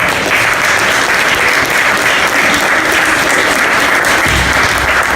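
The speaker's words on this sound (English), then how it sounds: "Round of applause for him" A crowd at a graffiti talk in a New York arena applauds a guest, a loud, dense burst of clapping that holds steady throughout.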